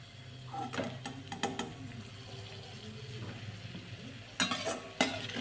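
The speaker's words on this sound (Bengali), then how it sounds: "কাজু কিশমিশ এগুলো ভেজে তুলে নেব।" Cashews and raisins frying in oil for pulao, a low, soft sizzle broken by stirring scrapes and clatters, with a sharper burst of stirring near the end.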